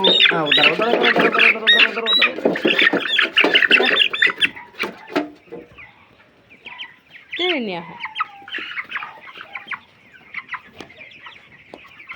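Chickens squawk and cluck loudly and densely for the first few seconds, then thinner scattered squawks and calls follow, with a rising rooster-like call partway through, close by while the birds are handled for weighing.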